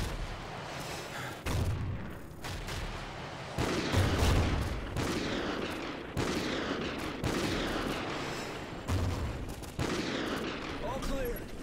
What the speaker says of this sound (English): Use the remote sniper to clear those RPGs!